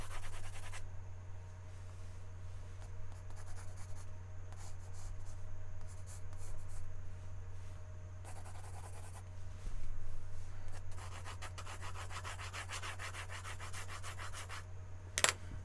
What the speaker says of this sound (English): So she's using now the side of her pencil to do a lot of stuff down here.